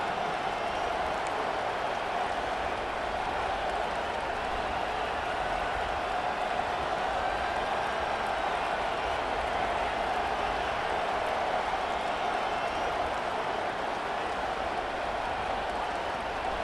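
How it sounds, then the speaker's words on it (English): Stadium crowd in EA Sports College Football 25 at a Nebraska game, a steady, dense roar of cheering fans filling the air without letup, loud and continuous with no clear talk above it. "listen to this crowd noise. This stadium is vibrating"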